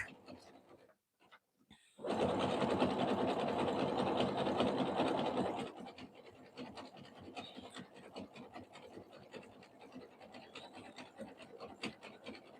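A sewing machine stitches a jelly roll rug in one loud, steady run of about four seconds, then lighter rubbing and scratchy handling of fabric follows.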